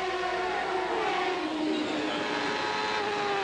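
An IndyCar race car on the 1994 Detroit street circuit drones at high revs, the engine pitch shifting as it passes, loud and steady with crowd-like background noise and no speech.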